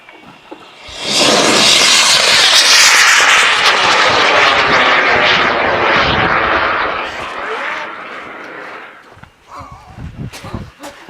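A low-cost K-class KNSB sugar-propellant rocket motor ignites with a loud, roaring burn that holds for about six seconds, then cuts off and fades, followed by scattered faint sounds.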